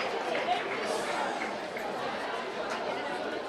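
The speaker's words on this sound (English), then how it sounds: "The noise in the stadium," Crowd noise in a stadium at a primary schools athletics championship track session, a continuous wash of many voices chattering and cheering at moderate distance, with a commentator talking over it.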